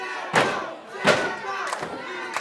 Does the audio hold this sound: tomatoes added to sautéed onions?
no